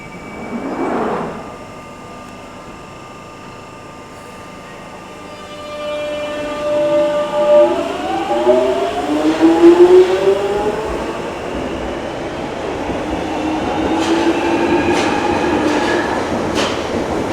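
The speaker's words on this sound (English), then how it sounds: "you can't overlook the 1996 stock's iconic traction motor sound" A London Underground 1996 stock train pulls away, its traction motor whine climbing steadily in pitch over wheel and track rumble, with a brief tone early on and rising clatter later as it gathers speed.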